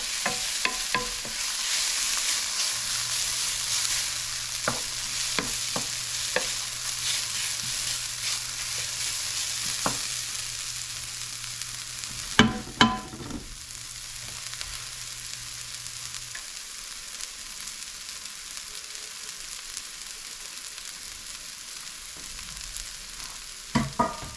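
Garlic frying in a pan, a steady hissing sizzle heard close, with a few brief utensil knocks and a cluster of clatters partway through, the sizzle easing slightly afterward.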